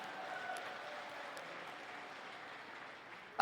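A keynote audience at a customer service training event applauds steadily for a few seconds, moderately loud and diffuse throughout the room, ending with a sudden louder burst.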